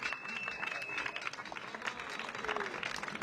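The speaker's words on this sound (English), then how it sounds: "I've now inserted myself right in the middle of the crowd, so it's very loud" Loud crowd cheering and clapping at an IRONMAN 70.3 triathlon in Zell am See-Kaprun, a dense steady roar of voices with scattered claps and a brief whistle, heard from right among the spectators.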